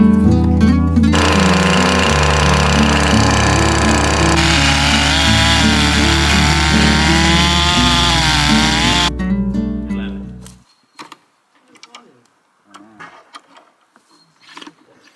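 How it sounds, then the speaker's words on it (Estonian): A saw cuts hard and loud for about ten seconds, droning with shifting pitch, then stops abruptly, leaving quiet room sounds with a few faint knocks. "Saagi ma hakkan siis."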